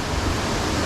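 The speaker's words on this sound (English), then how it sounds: "it's quite a nice waterfall" A waterfall on Koh Chang, a dense, steady rush of falling water heard close and loud, with no other sounds over it.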